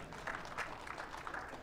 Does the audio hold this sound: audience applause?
yes